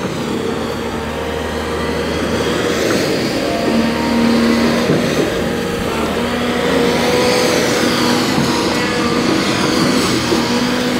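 A demolition excavator's diesel engine revs up and holds a loud, steady roar as the machine reaches higher on a house being torn down, with a faint whining tone riding over the rumble.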